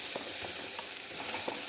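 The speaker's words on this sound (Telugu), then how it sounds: "ఇప్పుడు అదే నెయ్యిలో మనం ఫ్రై చేసుకుందామండి క్యారెట్." Grated carrot frying in ghee for carrot halwa, a soft, steady sizzle with a few light stirring scrapes, fairly quiet and with no talk.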